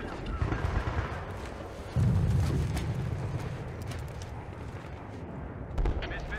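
Explosions and gunfire from the PC game Battlefield 3, during the Operation Guillotine mission, rumble as deep booms with a heavy blast near the start and another near the end, under a player's occasional talk.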